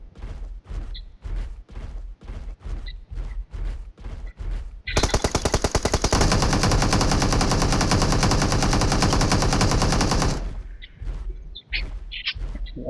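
Rapid automatic gunfire from the battle-royale game BGMI on the Erangel map, with a long sustained burst in the middle framed by shorter repeated shot volleys before and after, loud and close with no talk over it.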